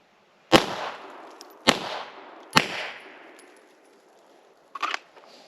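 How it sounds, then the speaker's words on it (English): Three deliberate gunshots at a shooting target, loud and close, each followed by a long reverberating decay, then a fainter metallic clatter. "I'm not shooting fast. I'm just going to be trying to shoot accurately."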